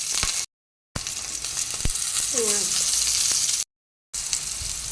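Panch phoron spices, bay leaf, dried chillies, garlic and green chillies frying in hot oil, a loud continuous sizzle with brief gaps and a short tonal squeak partway through.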